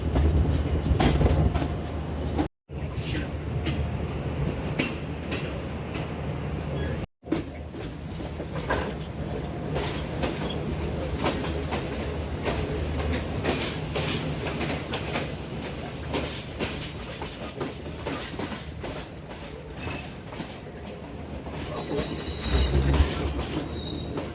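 Shalimar Express passenger train rolls along after leaving Faisalabad, with continuous rumbling, rhythmic clickety-clack of wheels on rail joints and occasional squeals, steady and fairly close throughout.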